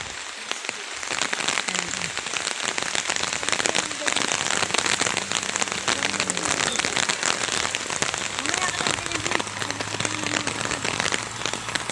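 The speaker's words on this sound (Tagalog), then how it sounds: "Laki na din ng ulan, no? Dito sa Tagaytay." Heavy rain pours steadily in Tagaytay City, a dense continuous patter of drops on surfaces heard up close for the whole stretch.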